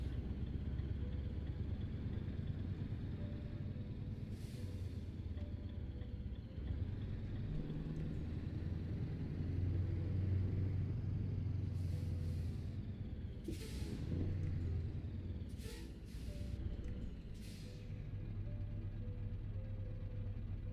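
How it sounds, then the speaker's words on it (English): A car engine with a modded sound resembling a Volvo engine drones steadily as a low, continuous rumble from inside the moving vehicle, with a few brief higher-pitched sounds over it. "it sounds like the same engine sound that they have on the Volvos as well"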